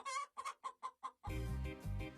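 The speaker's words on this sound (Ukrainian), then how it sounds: "то таке, що так кури кричать, що лис ловить чи що?" A chicken gives five quick, evenly spaced clucks, then breaks into a loud, sustained squawking cry up close.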